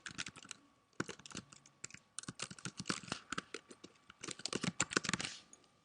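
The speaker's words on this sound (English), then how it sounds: "I'm going to type in the first and last name," Typing on a computer keyboard while filling in account details for an online school, with rapid bursts of crisp key clicks, close and clear, and short pauses between words, no voices.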